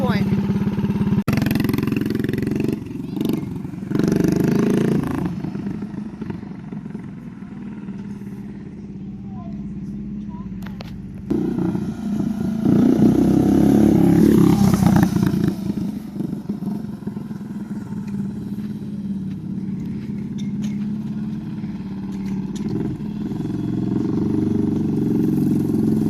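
A Predator 212cc engine on a Motovox minibike revs and drones steadily for a long stretch, swelling louder partway through, with people talking nearby over the motor.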